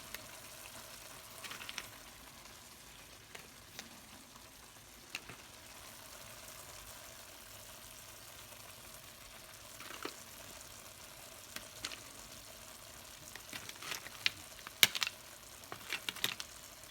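Seafood paella with shrimp and mussels cooking in a pan gives off a soft, steady sizzle and faint bubbling, with occasional small clicks and scrapes near the end.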